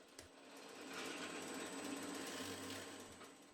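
A three-phase Wadkin DM mortiser bores into a scrap of wood with a rapid, rattling mechanical chatter that swells after a sharp start and runs steadily for a few seconds at low volume.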